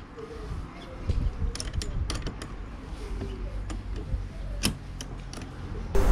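A stabilizer mount on a kayak is tightened by hand, producing faint, scattered mechanical clicks and ticks over a low, rumbling background.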